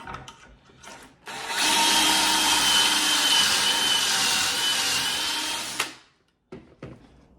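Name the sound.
drilling pocket holes in wood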